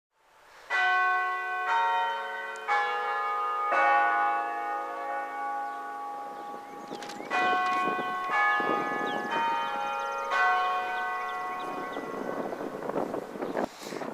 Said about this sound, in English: you can see and hear from the soothing sounds of the bells of the Campanile